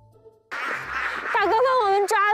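Ma ducks caught for carambola duck at a farm or market quack in a run of nasal, wavering calls, close and loud over a busy noisy background.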